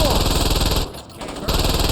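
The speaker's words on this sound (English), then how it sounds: "Man, look at this assault rifle. It makes everything so easy." Assault rifle fire in Saints Row 2, rapid automatic bursts rattling loud and close, briefly breaking off near the middle before resuming.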